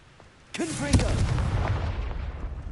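A Confringo blasting curse in Hogwarts Legacy goes off as a sudden loud blast with a shouted voice at the moment of casting, followed by a rumbling roar that slowly fades.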